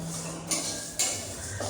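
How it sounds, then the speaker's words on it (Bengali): Light metallic scraping and clinks of a utensil stirring mung dal frying in a pan, with faint background sizzle and no talking. "এখন মুগ ডাল ভাজছে"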